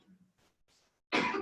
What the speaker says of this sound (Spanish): hay que cuidarse la tos